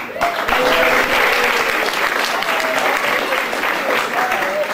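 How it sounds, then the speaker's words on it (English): A church congregation at Christmas Mass breaks into sustained applause, a loud, even roar of many hands clapping with a faint murmur of voices underneath, lasting the whole stretch. "Applause for Jesus' birth. Let's hear that."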